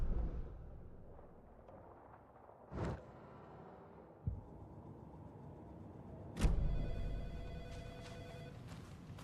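A telephone rings in a PS5 video game, a couple of brief bursts standing out against a quiet, low background hum.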